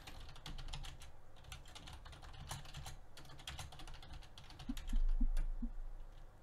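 Rapid, uneven clicking of keys on a computer keyboard, fairly close and steady throughout, with a few heavier thuds toward the end.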